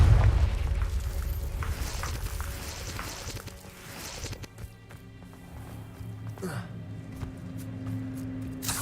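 A Confringo fire spell bursts in Hogwarts Legacy with a loud, deep boom right at the start, then fades into rumbling in-game ambience and shuffling movement.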